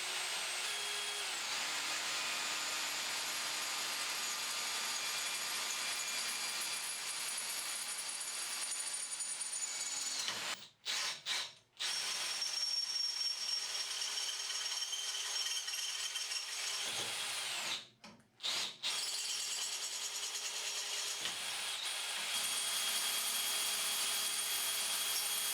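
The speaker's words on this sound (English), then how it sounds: "I'm going to start off by drilling a small pilot hole" A power drill bores a small pilot hole for a patio door lock, running as a loud, steady whine for most of the stretch with two brief pauses where the bit stops.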